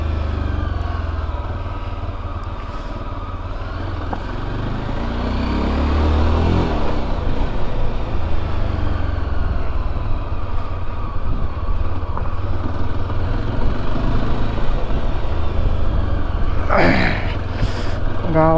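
Heavy road traffic crawls through a village, a steady close rumble of car and motorcycle engines with a brief burst of higher horn-like tones near the end.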